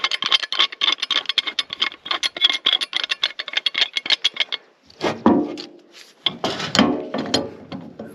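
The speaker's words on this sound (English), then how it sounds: "I'm going to use this pipe wrench." A pipe wrench works on a waterline pipe and valve outdoors. A rapid, steady ratcheting clatter runs for several seconds, then gives way to slower, heavier metallic scraping and grinding, close and loud.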